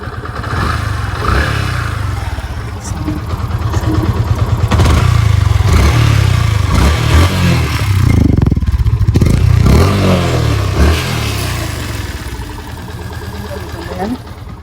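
A Yamaha FZS V2 motorcycle, warm from riding, is started and revved, its loud engine climbing through several throttle blips before settling back toward a steady idle, close to the listener.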